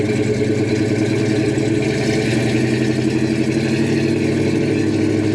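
A restored green 1969 Chevrolet Chevelle with a 454 V8 and 4-speed manual idles, a loud, steady, close low rumble with a lopey pulsing throb and no talk.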